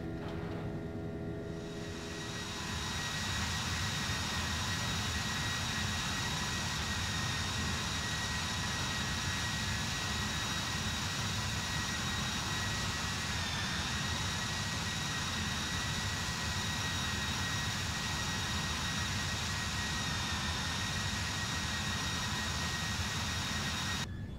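An Alitalia Airbus A320 in Flight Simulator X taking off from Turin Caselle, a loud sustained jet engine roar with a high whine, steady and close for the whole stretch.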